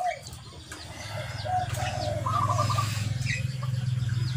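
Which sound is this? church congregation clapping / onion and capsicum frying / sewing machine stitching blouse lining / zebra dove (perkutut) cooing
zebra dove (perkutut) cooing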